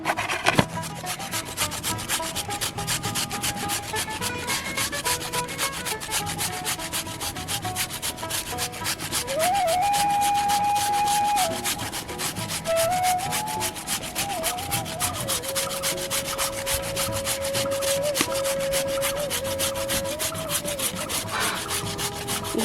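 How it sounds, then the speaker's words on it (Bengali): A red potato rubbed by hand against a grater, a steady run of rapid rasping scrapes that keeps up without pause at close range, with faint tonal sounds in the background. "লাল আলুটা আমি ঘষে নেব।"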